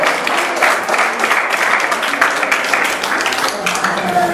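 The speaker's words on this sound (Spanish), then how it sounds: "Un aplauso al Señor." A church congregation applauding during a worship service, sustained dense clapping from a crowd, loud and even, with voices mixed in under the clapping.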